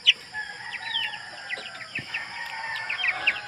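Farm-raised broiler chickens, some of them stunted, keep up soft, overlapping clucks and high peeping chirps from several birds at once, fairly near and moderately quiet, with no talking.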